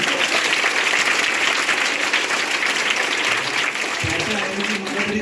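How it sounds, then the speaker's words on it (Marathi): An audience at an awareness program on scientific outlook and anti-superstition law breaks into loud, dense applause, sustained and close, thinning slightly near the end as a voice begins to speak. "जोरदार टाळ्या वाजवा त्याच्यासाठी."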